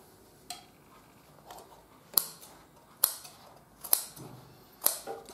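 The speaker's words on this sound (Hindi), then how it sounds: "अब ये काट देता हूं" Scissors snip through trouser fabric while cutting a double-welt back pocket opening, four sharp, close snips spaced about a second apart with faint handling rustle between.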